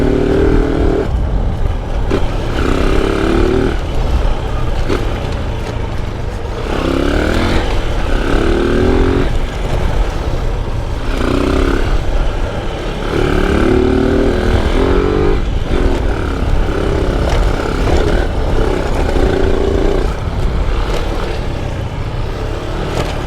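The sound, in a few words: motorcycle passing on road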